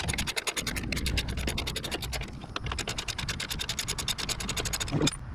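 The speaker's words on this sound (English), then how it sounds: "switch to our ratchet." A hand ratchet loosens the steering stabilizer bolt on a 2015 Ford F-250, a fast, continuous run of sharp metallic clicks close by, with a brief bump near the end.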